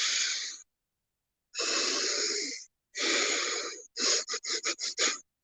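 Breathwork exhalations: a long forceful breath out, then two more sustained exhales, then a quick series of short rhythmic puffs, close and clear with silence between.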